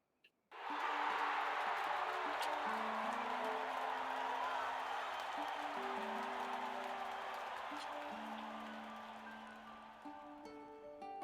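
A large crowd in Octopath Traveler II cheers and claps steadily and loudly for a contestant, a dense sustained roar that slowly fades over a soft melodic game score.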